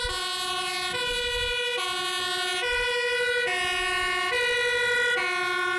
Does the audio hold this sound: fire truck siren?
yes